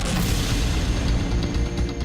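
A loud, rumbling car bomb explosion gives a dense, roaring blast that stays heavy through its whole length, with crackling debris-like texture on top.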